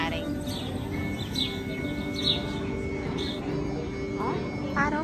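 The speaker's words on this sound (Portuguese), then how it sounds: "Os pássaros estão falando muito." Birds chirp in a garden in short, bright tweets scattered throughout, heard beneath ongoing conversational talk and background chatter.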